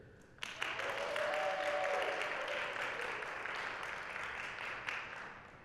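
Audience applause in a music session voting for a song title, a steady roar of clapping that begins abruptly and continues for about five seconds at a fairly even level, slightly distant, with a brief vocal tone early on.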